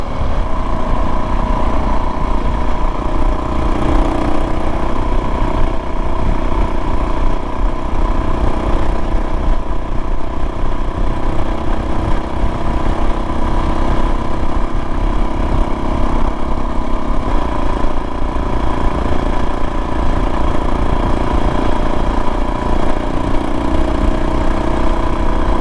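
A DRZ dual-sport motorcycle fitted with an FMF PowerBomb header, 43-tooth rear sprocket and JD jet kit runs steadily while commuting on the road, a loud continuous engine drone with wind noise and no voices.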